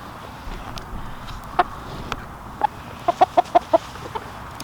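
Backyard chickens in an open run give a few short, mid-pitched clucks, sparse at first and then a quick cluster of five or six, heard moderately close over a steady outdoor hiss with no talking.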